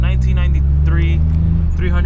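A 1993 Nissan 300ZX drives along with a steady low engine drone and road noise inside the cabin, while a person talks over it throughout.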